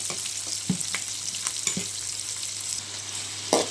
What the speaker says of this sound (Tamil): நம்ம கொஞ்சமாக தேங்காய் பேஸ்ட்டு சேர்த்துக்கலாம். கலந்துக்கலாங்க.